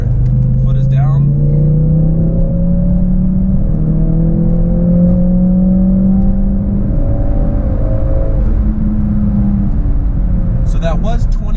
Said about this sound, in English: Now let's floor it. Foot is down.